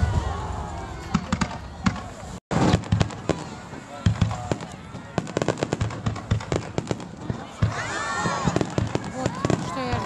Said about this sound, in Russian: Сейчас бабахнет.